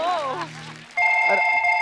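Someone speaks briefly, then a telephone starts ringing with a steady, bright electronic tone that stays loud until the end.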